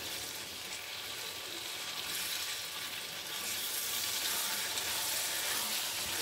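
Restaurant-style Pakistani chicken jalfrezi fries in a hot pan while being stirred, a steady, dense sizzle that holds close and loud throughout, swelling slightly toward the end, with no talking.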